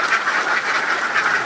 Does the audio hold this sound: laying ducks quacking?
yes